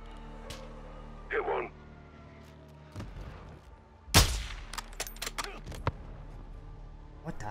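Gunfire in Call of Duty: Modern Warfare II, scattered sharp shots and a loud crack mid-clip among quieter game sounds, with a player talking over the action.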